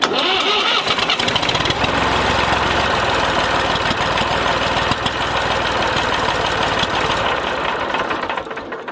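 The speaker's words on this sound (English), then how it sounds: "So now we should be able to start the tractor." A tractor engine cranks and catches after its battery is charged with an Optimate 7 charger, then runs loud and steady with a rough, knocking idle for several seconds before easing slightly.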